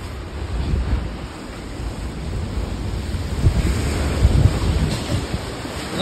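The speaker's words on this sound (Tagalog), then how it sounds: "Bagyo na." Strong gusting wind from Typhoon Tino roars steadily against the microphone while surf and waves churn underneath in a coastal village, a loud, continuous rumbling wash that swells toward the end, with no voices.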